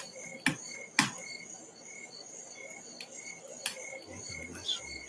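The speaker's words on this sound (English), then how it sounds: "listening to the fire crickets and" Crickets chirp on a summer night beside a fireplace, a steady layered trill running throughout with a few sharp crackling pops from the fire and faint low thumps near the end.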